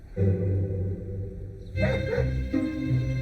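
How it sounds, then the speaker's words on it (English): Wild dogs in Chernobyl barking and yipping, a few sharp calls close by over a steady low rumble, with no talk. "Chernobyl's wild dogs are a vital part of Tim's research"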